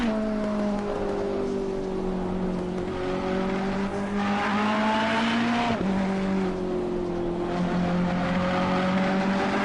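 A number 11 Ferrari race car laps a wet Suzuka circuit in a racing video game, its engine droning steadily and shifting pitch through corners, with faint tyre noise and no talk.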